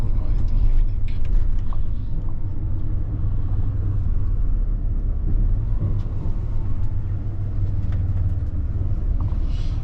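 City bus driving through Zurich between university buildings, a steady loud low engine rumble and road noise inside the cabin throughout, with a voice talking over it.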